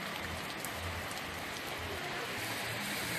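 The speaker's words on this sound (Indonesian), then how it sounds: "di saat ini Kota Pagilangan hujan. Ya, ini hujan" Steady rain falls across Pagilangan town, the season's first after the dry spell, a dense continuous hiss of drops striking surfaces with no voices over it.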